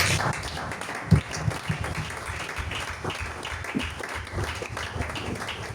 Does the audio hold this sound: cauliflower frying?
no